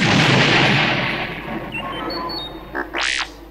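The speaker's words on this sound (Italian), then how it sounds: "La Morte Nera fu scossa da una serie di esplosioni." Explosions in an Italian-language audio retelling of Return of the Jedi as the Death Star is shaken: a loud, dense roar of blasts that fades, then a few sharp bursts and a rising whoosh near the end, with no speech.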